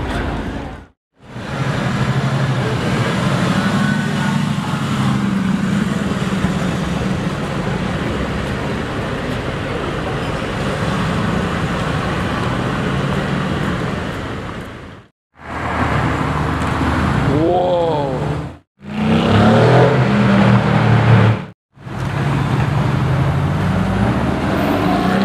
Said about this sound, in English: That's a convertible G-Wagon.